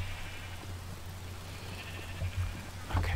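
Minecraft sheep bleat in short bursts toward the end, rising above a steady low background hum.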